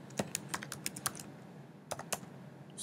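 Typing on a computer keyboard while entering PHP array code, quiet close key clicks in a quick run of strokes, a pause, then two more taps.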